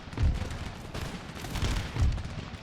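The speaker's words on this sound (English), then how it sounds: "Alright, cannons, what are you guys firing at? Fire at that line." Cannon and musket fire from an Empire: Total War battle, a sequence of heavy booming volleys and crackling shots rolling out in bursts at moderate loudness, with no talk.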